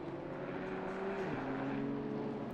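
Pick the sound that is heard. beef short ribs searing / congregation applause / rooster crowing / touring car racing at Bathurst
touring car racing at Bathurst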